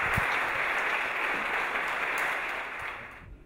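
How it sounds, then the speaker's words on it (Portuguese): An audience at a gamification conference in Porto gives a speaker a round of applause, a steady wash of clapping from a seated crowd that fades out at the end. "E eu peço uma salva de palmas para o Manuel Pimenta, por favor."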